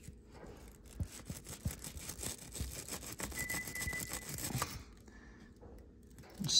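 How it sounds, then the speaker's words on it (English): Rapid, scratchy wire brush strokes scrub steadily against the rubber intake boot of a Yamaha YZ250F, close and moderately loud, with rhythmic back-and-forth texture and no talking. "got a little wire brush."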